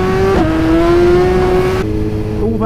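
A Suzuki GSX-R motorcycle with carbon wheels accelerates on the road, its engine note droning loud and close, pitch climbing then dropping at a gear change.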